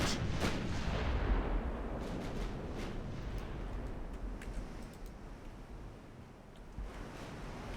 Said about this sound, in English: these guys should start firing very soon as well